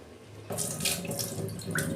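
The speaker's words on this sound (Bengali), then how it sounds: "আমি ডাল ভালো করে ধুয়ে নিয়েছি।" Tap water starts running into a bowl of lentils being rinsed, a close, steady splashing rush that begins abruptly and continues with small bubbling swirls.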